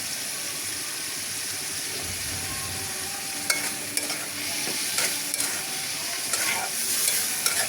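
Sliced okra is stirred through fried spice masala in a hot pan, producing a continuous close sizzle with scraping spoon strokes and a few sharp clinks toward the end, with no voices.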